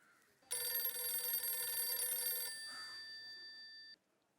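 A telephone bell rings steadily in one long burst, loud and close, with a fainter sustained tone lingering briefly after.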